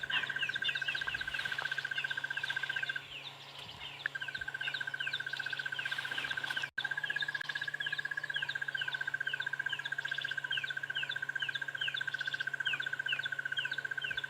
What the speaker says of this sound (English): let you hear this barbet and all the other bird calls of the morning